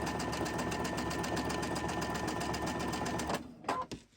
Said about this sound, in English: If you have the machine that has the light beam that comes out, you won't even need to mark your fabric either, because it'll show you where to sew that.